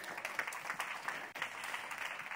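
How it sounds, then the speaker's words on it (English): Audience at a conference welcome talk applauds, a dense, even wash of many hands clapping at moderate distance for a couple of seconds. "Give yourselves a round of applause."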